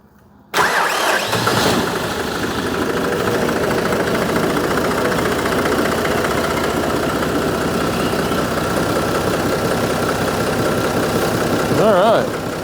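A John Deere 5310 tractor engine cranks over and catches, then settles into a steady, loud diesel idle that runs on evenly, with a brief rise in revs near the end.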